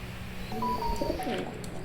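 Pigeons coo close by, a few soft throaty warbling calls over faint background noise.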